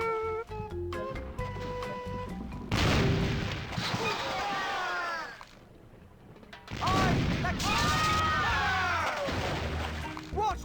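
Booming cannon fire from The Curse of Monkey Island, two heavy blasts that each trail into a long rumbling crash with whistling debris, separated by a brief quiet gap, over a scattered game soundtrack.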